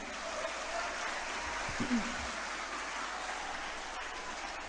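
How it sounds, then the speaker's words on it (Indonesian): An audience at a sharia financial literacy event for santri applauds, a steady, diffuse wash of many hands clapping at a distance, fairly faint and even throughout. "Tepuk tangan dong buat BSI loh"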